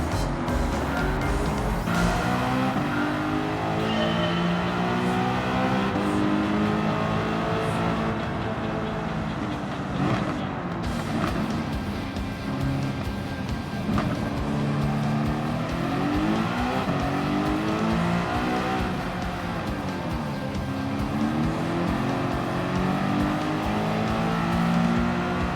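Race car engines in Gran Turismo 7, a loud continuous roar with rising and falling pitch as gears shift, other cars droning alongside throughout.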